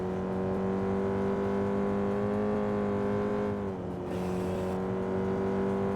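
Several cars roar close behind in a Pursuit Force chase, with steady engine drone and whine holding for about six seconds, dipping briefly before the pack surges back.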